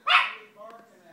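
A dog barks once, sharply and close by. A softer, drawn-out whining tone trails off after it.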